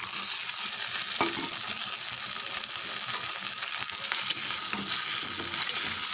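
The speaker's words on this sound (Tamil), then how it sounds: "பாருங்கள், தக்காளி நல்லா வதங்கியிருக்கு." Onions and tomatoes sizzle steadily as they sauté in a pan for a coconut kurma, with a few soft stirring scrapes over a continuous close frying hiss and no talking.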